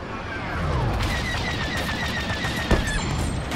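Gunfire from a battle in the Star Wars Battlefront II video game, a steady barrage of blaster shots and rapid fire with a sharp louder burst near the end, set against constant combat noise.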